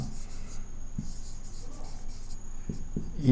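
Chalk or marker scratching on a board during a lesson, a steady scraping stroke for several seconds with a few soft knocks near the end, close and fairly quiet.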